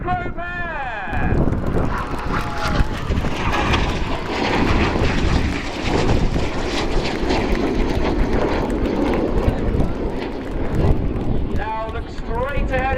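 The Red Arrows synchro pair of jets roar past at the Royal International Air Tattoo airshow, a loud sustained rushing jet noise with wind buffeting the microphone and a commentator's voice over the crowd.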